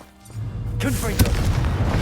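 A Confringo fire spell blast in the Hogwarts Legacy video game erupts with a sudden loud whooshing boom and crackling burst, a voice speaking just before and under it.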